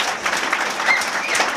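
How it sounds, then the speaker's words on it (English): An audience at a live class graduation applauds steadily, a dense wash of clapping from many hands with no voices on top. "Let's give him a big round of applause."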